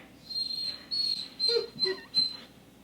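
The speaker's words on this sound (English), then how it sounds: "My dog is going crazy, oh my goodness." A dog nearby whines and whimpers in a run of high, wavering cries, rising in short excited bursts with faint background noise.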